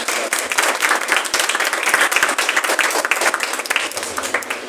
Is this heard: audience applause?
yes